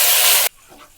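Curry leaves dropped into hot oil for a tempering with mustard seeds, dried red chillies and turmeric, bound for a spinach and raw mango dal, give a loud, sharp burst of sizzling hiss that cuts off abruptly halfway through, leaving a faint quiet residue.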